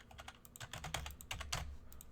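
Quiet, rapid clicking of keys typed on a computer keyboard, steady and close, with no voices.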